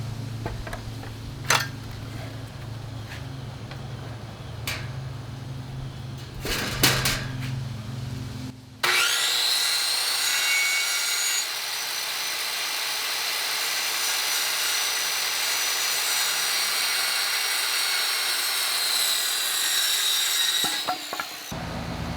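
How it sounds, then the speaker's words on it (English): A power saw rips through wood for a queen-sized loft bed frame with a loud, steady high-pitched whine that runs unbroken for about twelve seconds, after some quieter shop noises. "this is the last cut for the frame"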